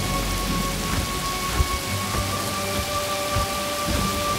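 Steady, dense rainfall pours on surfaces during a thunderstorm, with soft rumbles and scattered drop hits, continuous and fairly close, with no voices.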